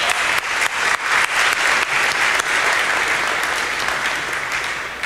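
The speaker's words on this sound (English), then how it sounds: "so perhaps a round of applause" Audience applause at a panel forum, a dense steady clapping that fills the whole stretch at close, even loudness, fading slightly toward the end.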